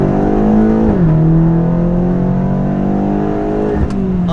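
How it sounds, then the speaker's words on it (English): A BMW X6 M (F86) accelerates hard on a race track, its engine loud and close, revving up through the gears with a brief dip at a shift. "I'm gonna accelerate here"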